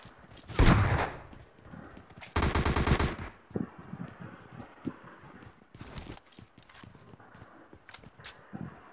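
Video game shotgun fire bursts out in two loud, close blasts early on, followed by fainter scattered shots and footstep-like clatter.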